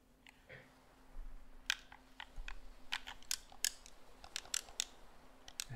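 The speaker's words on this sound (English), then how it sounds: "That's a bit of a clicky A button, huh?" Sharp, close clicks from a game controller's A button, pressed in irregular bursts over a low steady hum in a quiet room.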